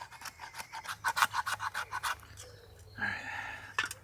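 A knife scrapes shavings off a fatwood log for fire-starting: a quick run of about a dozen close, rhythmic rasping strokes, then a pause and a few slower, rougher scrapes, with no talking.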